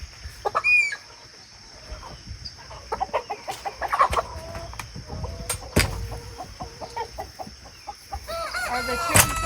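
Roosters on a homestead crow and cluck, a few distinct crows rising out of scattered nearby clucking and rustling, with faint voices in the background.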